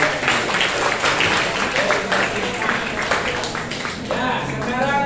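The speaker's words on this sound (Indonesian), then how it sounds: "Oke, kasih tepuk tangan." A classroom audience of students applauds, with dense, continuous clapping mixed with voices throughout.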